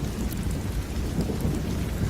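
A thunderstorm on a rainy night at a chicken market: heavy rain pours steadily and densely, with a low rumble of thunder underneath, loud and close with no voices.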